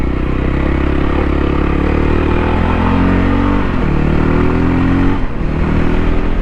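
Voge 300 Rally single-cylinder 300cc motorcycle engine droning steadily and loud while riding, with a continuous low throbbing note, close and unbroken throughout, and a slight dip near the end.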